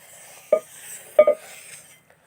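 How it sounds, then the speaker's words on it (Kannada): Tomatoes frying in oil in a pan for rasam, with two distinct clinks of a spoon stirring against the pan over a faint, steady background sizzle. "ಈ ಥರ ಚೆನ್ನಾಗಿ ಫ್ರೈ ಮಾಡ್ಕೋತಾ ಇರಿ"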